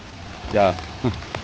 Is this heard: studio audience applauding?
no